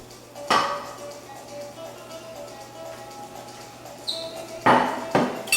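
Metal pot and lid clanking while a Puerto Rican pastel wrapped in banana leaf is lifted out of its cooking pot: one sharp clang early, a quiet stretch, then a cluster of clinks and knocks near the end.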